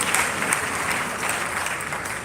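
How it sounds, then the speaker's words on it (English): A live audience claps, producing a full, steady burst of applause that continues evenly across the whole stretch with no speech over it. "Can you clap hands for that?"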